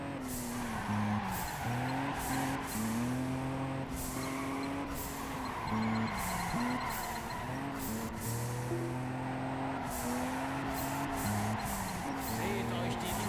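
Cars in the Juiced 2 racing game drift through corners, their engines whining and sliding in pitch while tires skid, steady and fairly close, with a commentator talking over them.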